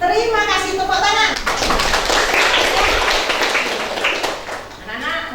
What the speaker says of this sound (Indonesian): Terima kasih, tepuk tangan.